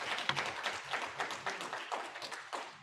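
A small audience applauding at an international workshop, a brief, moderate burst of scattered hand claps that thins out without cheering.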